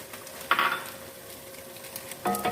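Minced meat with onion fries in a pan, a steady low sizzle broken by two louder bursts of stirring and scraping, close and without talk.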